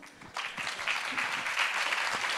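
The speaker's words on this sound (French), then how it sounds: "On applaudit." An audience at a talk event breaks into applause that starts abruptly, then builds into a steady, moderately loud clapping that holds to the end.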